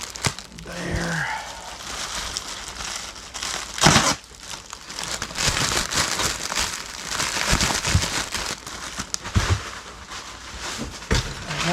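Bubble wrap crinkles and crumples while a box for a Marantz 6100 turntable is packed for shipping, irregular rustling and crushing bursts up close with a few sharper handling knocks.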